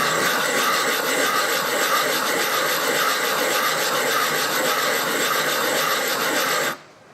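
Fired work is ground by hand against silicon carbide grit of about 80 mesh in a figure-eight motion, a loud, steady, close rasping scrape that stops abruptly near the end.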